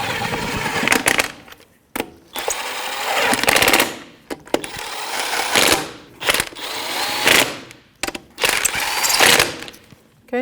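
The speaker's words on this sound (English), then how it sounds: "That's a 19mm socket. We're just going to snug it up before we torque it and do it in a star pattern." An impact wrench with a 19mm socket snugs the lug nuts on a 2007-2017 Jeep Patriot wheel, in several loud rattling bursts separated by short pauses.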